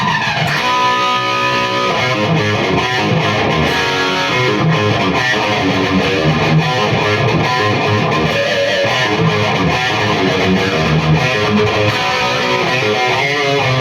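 Distorted electric guitar with heavy reverb, dense sustained chords and notes washing continuously at loud level without talk.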